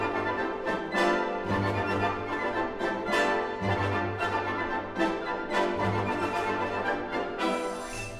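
An orchestra plays a lively dance tune based on a Russian folk song from Stravinsky's "Petrushka," with pulsing low accents and bright, full ensemble textures moving in a steady rhythm.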